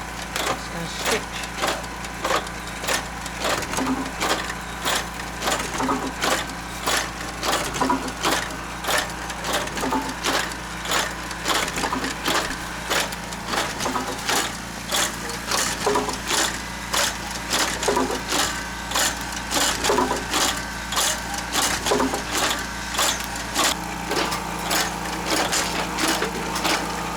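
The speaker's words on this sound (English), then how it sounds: "Stitched on a little fabric along the edge of the tatami." A tatami-making machine stitches fabric along the edge of a tatami mat, a loud, fast, regular mechanical clatter of rapid punching strokes repeating without pause, with a low steady motor hum underneath.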